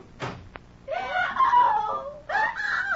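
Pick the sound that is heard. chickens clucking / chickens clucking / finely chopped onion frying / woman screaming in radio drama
woman screaming in radio drama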